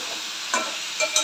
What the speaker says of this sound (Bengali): এবার আবার ভালো করে নাড়তে থাকবো।